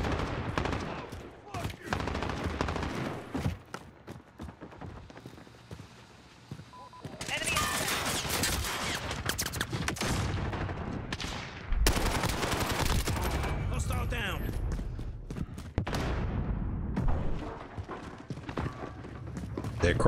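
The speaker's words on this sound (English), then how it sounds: "I think I'm the only one that's using the SMG." SMG gunfire in a Call of Duty Modern Warfare team deathmatch, rapid bursts of automatic shots in loud clusters, with other weapons and game effects around them and a voice talking over the action.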